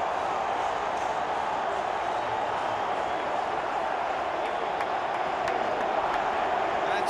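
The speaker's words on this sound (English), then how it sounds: "Suddenly the home crowd are up on their feet to cheer their team." A home football crowd at an Argentina Superclásico roars and cheers, a constant wide wash of stadium noise with no breaks, steady and loud.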